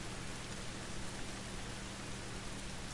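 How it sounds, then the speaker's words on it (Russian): Rain falling in The Last of Us video game, a steady, even hiss of drops with no talk over it. "Даже если дождь идет."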